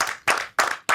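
Audience applause celebrating a film, heard as about three dense, loud bursts of clapping in quick succession, close and unaccompanied by speech.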